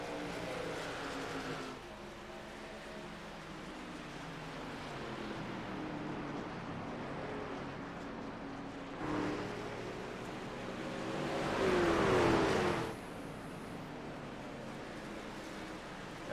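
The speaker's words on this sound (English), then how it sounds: "We'll see how these three trucks can battle out here on track." Racing trucks in a sim-racing league race at New Hampshire, engines droning steadily at a distance, with one truck swelling louder as it passes near the end, then fading again.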